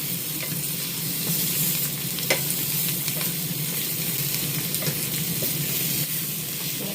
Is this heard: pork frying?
yes